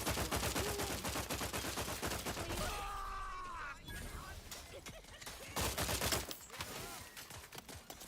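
Rapid automatic gunfire rattles in The Outer Worlds 2, loud bursts of shots in quick succession with brief pauses between volleys and a voice speaking under the action.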